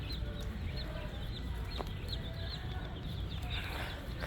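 Baby chicks and pullets in a brooder at a Tractor Supply store, with soft high cheeps and peeps scattered steadily throughout over a low background hum of the shop.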